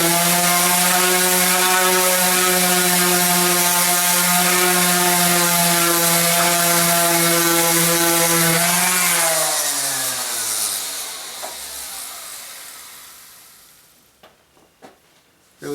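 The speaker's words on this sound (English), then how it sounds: "So just give it a little sanding." A power sander works a joint on a wooden folding stool, a loud steady motor whine for several seconds that then winds down in pitch and fades to near silence, followed by a few small knocks.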